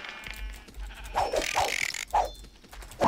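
Sheep in the video game Minecraft let out several close, nasal bleats in uneven succession, with scattered game sounds in between.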